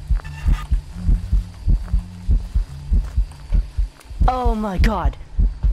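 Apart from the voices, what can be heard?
heartbeat sound in the video game Phasmophobia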